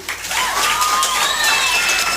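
A crowd at a Tamil public gathering claps in sustained, dense applause, loud and even throughout, with a faint whistle-like tone gliding above it.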